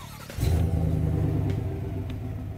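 The 5.3-liter V8 of a 2021 GMC Yukon AT4 rumbles and revs up, a deep, loud engine roar that starts abruptly and holds steady close by.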